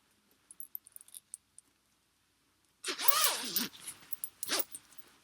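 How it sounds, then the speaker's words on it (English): A zipper on a bomber jacket is pulled up in one quick, close rasping run, preceded by soft fabric rustles and clicks and followed by a few short scraping tugs. "then it zips. Let me see if I can zip it."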